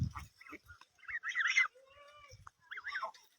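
Village ducks being led out to graze on grass near a field, giving short close quacks and gabbling calls in a quiet setting, with brief pauses between bursts.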